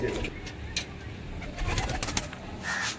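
Pigeons coo in soft, repeated throaty calls, close by, over a faint background murmur of indistinct voices.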